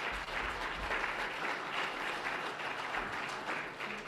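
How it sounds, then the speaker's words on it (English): A room of attendees applauds at a Manitou Springs election forum, sustained even clapping at moderate loudness with no voices over it. "Round of applause."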